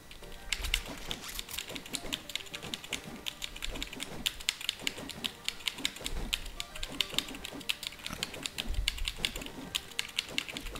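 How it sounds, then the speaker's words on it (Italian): Fast, continuous clacking on a computer keyboard, steady and fairly quiet, a dense run of keystrokes with no speech over it. "Senti la tastiera, ti dà fastidio?"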